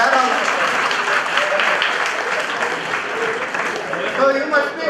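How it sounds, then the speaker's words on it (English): Audience clapping at a professional conclave hall, a full, continuous round of applause from a large crowd lasting the whole stretch without pause. "They are clapping now there also."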